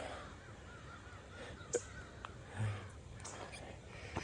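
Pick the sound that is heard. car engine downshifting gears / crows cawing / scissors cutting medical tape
crows cawing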